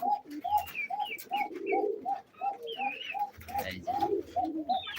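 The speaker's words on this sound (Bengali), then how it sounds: "এই যে নর কবুতরটি," A male pigeon coos in a steady series of soft, rounded calls at close range, repeating roughly every half second, with faint chirps and light background noise between them.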